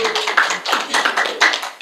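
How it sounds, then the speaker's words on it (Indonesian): Congregation clapping for God during a church worship service, a dense run of many hands applauding together in an uneven, continuous patter, fairly close and steady for under two seconds with no talk. "Tepuk tangan untuk Tuhan."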